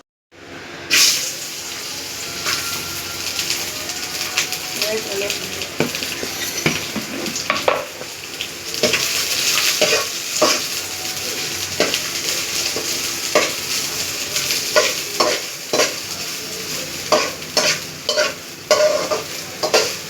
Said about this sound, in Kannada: ಇದು ಗೋಲ್ಡನ್ ಕಲರ್ ಬರೋ ಗಂಟ ಹುರ್ಕೊಬೇಕು. ಲೋ ಫ್ಲೇಮ್ ಮೇಲೆ ಹುರ್ಕೊಬೇಕು.